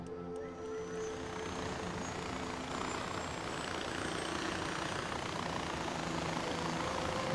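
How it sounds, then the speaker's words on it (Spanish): Small helicopter in Far Cry 4 gives a steady, continuous engine and rotor drone at fairly close range, holding an even level throughout with a faint high whine above it and no talking. "Aquí está el pequeño helicóptero"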